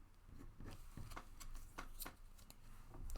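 Playing cards are shuffled by hand at a tabletop during a board game, giving a quiet run of soft riffling ticks and flutters with no talking.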